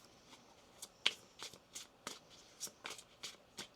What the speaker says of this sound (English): One more shuffle here, please